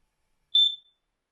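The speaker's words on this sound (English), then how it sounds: "It's the Kidde carbon monoxide smoke detector alarm. And it keeps making this damn beeping noise or chirping." A Kidde combination smoke and carbon monoxide alarm gives a single short, high electronic chirp, sharp and clear against silence.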